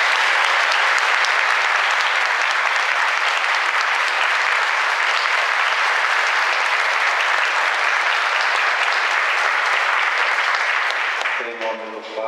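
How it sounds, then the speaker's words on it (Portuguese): Sustained congregational applause fills a church during a Catholic Mass, a steady dense wash of many hands clapping for about eleven seconds before fading as a voice begins near the end. "com uma salva de palmas"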